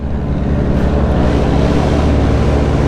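A jeepney rumbling along a rough, uneven road, a loud low engine drone and chassis rattle close by, continuous through the whole stretch with no talk.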